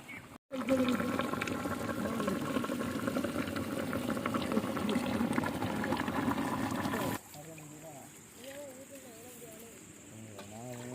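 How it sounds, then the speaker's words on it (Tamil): A pot of mutton curry bubbles and simmers steadily outdoors on a river bank, with background voices over the first part before the bubbling continues more quietly. "நல்ல ஒரு மணி நேரம் கொதிக்கட்டும்."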